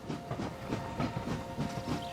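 A train in the Anno 1800 video game rolls past with a steady clickety-clack of wheels over rails, a continuous moderate rumble with repeating beats.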